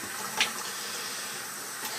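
A tap runs with hot and cold water mixed, a steady rushing hiss of water into a sink with one brief splashy spike, continuous and close.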